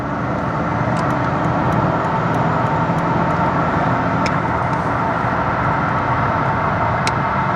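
An older supercar cruises at speed on a road with no hard shoulder, producing a loud, continuous roar of engine, tyre and wind noise with a few brief clicks.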